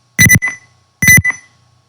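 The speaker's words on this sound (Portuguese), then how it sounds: "Dar os dois bips, dar os dois primeiros bips." Two loud, sharp electronic beeps from an Arduino Mega circuit running in a Proteus simulation, evenly spaced about a second apart, each short and tonal with a brief echo-like tail, followed by quiet.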